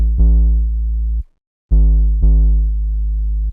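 Deep sine-wave sub bass from Serum, run through a fast distortion and an EQ that trims the highs. It plays alone and loud: one sustained note with a quick retrigger, a brief silence, then two more held notes.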